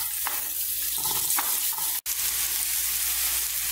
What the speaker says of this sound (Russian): Масло разогрелось, отправляем картофель и жарим до готовности.